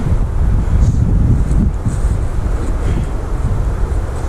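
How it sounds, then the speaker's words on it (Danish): Strong wind buffets the microphone outdoors in Greenland, a steady loud low rumble with gusting swells throughout and no talk. "Vinden er ikke lige så stærk som sidste gang."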